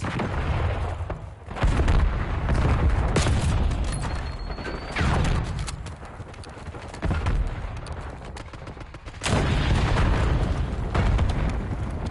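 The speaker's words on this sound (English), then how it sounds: "Flashbang out" A flashbang grenade detonates in a video game, amid a loud, busy soundscape of sharp bangs and booming gunfire-like bursts that surge in several waves.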